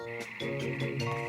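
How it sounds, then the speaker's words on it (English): A cartoon frog croaks in a short burst of rapid, throaty pulses, loud and close, with no talk over it. "There's a frog, Nanny."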